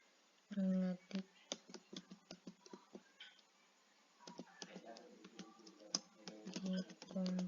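Someone types on a computer keyboard, with irregular clusters of close, crisp key clicks, while a voice speaks over parts of the typing.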